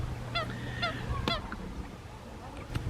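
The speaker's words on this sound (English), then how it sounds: "With the water, different populations of birds have arrived." Geese honk several times in short calls at a lakeside, with other birds around and a low steady rumble of background noise.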